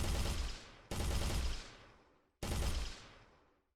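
Video game gunfire in an Unreal Engine first-person shooter: three loud, sharp synthetic gun blasts, each with a long decaying tail, no voices.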